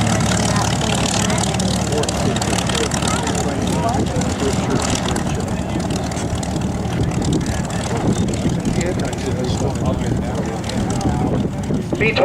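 Boeing B-29 Superfortress bomber Fifi, a World War II four-engine propeller aircraft, coming in to land at an airshow, its steady low propeller drone filling the whole stretch with a broad rumble; a crowd murmurs faintly underneath.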